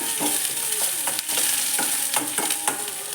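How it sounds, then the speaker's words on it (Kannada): Green chillies, curry leaves and onion frying in a tempering, stirred with quick repeated scrapes over a constant bright sizzle, close and loud. "ನೋಡಿ ಚೆನ್ನಾಗಿ ಗೋರಾಡೋಣ ಇದನ್ನು"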